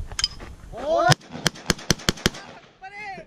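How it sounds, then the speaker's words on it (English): A quick string of about seven sharp, loud shotgun-like reports rings out while shooting skeet outdoors, with voices talking just before and after the burst. "he's gonna try to shoot some skeet"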